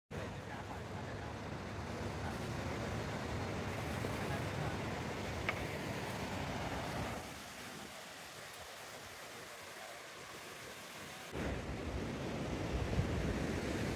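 Surf at Cabo de Rama beach in Goa, a steady near roar of breaking waves with wind buffeting the microphone, easing briefly before swelling again.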